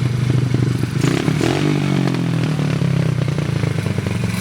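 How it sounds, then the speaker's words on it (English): A Honda CRF50 dirt bike fitted with a bigger carburetor runs close by in a loud, steady buzzing drone with slight throttle wavers and some mechanical clatter, heard without talk. "Alright, so as you can see, bike's running pretty good."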